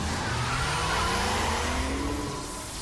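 A racing car in the video game Real Racing 2 HD drives with a continuous engine roar, its pitch slowly climbing and shifting as it accelerates, loud and steady with faint tyre noise.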